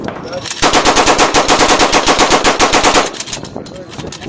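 A Colt 1877 Bulldog Gatling gun fires a loud, rapid, even burst of rounds at close range for about two and a half seconds, then stops, leaving faint mechanical rattling.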